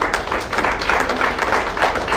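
An assembly audience at a professional gathering applauds steadily, a dense, continuous patter of many hands clapping that stays fairly loud and close throughout.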